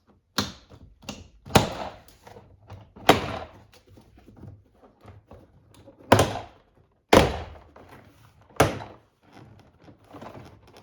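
Plastic trim clips on a 2021-2026 Toyota Sienna front door panel pop loose one after another, producing sharp, close snaps and thunks spaced irregularly, with quieter rattles and handling noise in between.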